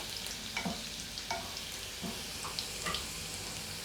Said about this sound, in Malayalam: നല്ലപോലെ ഒന്ന് ഇളക്കി കൊടുക്കുക.